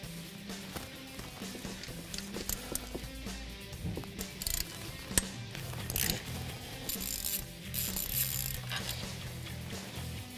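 A ratchet wrench backs out four bolts and a stud on a 2015-2017 Mustang GT 5.0L engine during a Roush supercharger install, giving close, repeated clicking pawl bursts and metallic rattles with short pauses between.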